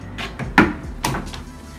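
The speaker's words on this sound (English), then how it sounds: "the slide door." A sliding bathroom door in a hotel room rolls along its track, with a couple of soft thuds and a brief rumbling slide, close and fairly quiet, with no talking.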